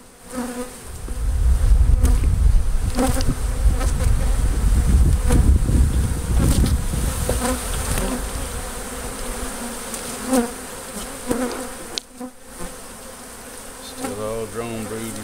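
A dense, loud swarm of honeybees drones steadily throughout a hive removal beneath an elevated house in Ansley, Mississippi, a close, continuous buzz with brief rustles and handling noises near the end.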